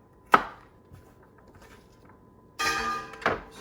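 An Esee JG5 knife chopping raccoon meat on a board: a sharp solid thunk, a faint tap, then a longer gritty cut ending in another firm chop, close and clear with no talk.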